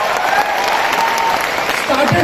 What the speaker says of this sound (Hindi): मुझे फिगर आए तो तालियां बजनी चाहिए